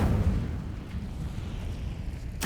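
Incendio fire spell cast in a Harry Potter video game, a roaring whoosh of flame that starts strong and settles into a rumbling, crackling burn before a brief burst at the end.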